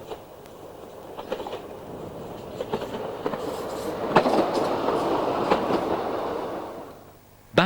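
A 1990s British Rail empty working with Porterbrook vans rolls past, a rumbling train with rhythmic clickety-clack wheel beats that build to a peak and then fade, ending in a sudden knock, with no talk.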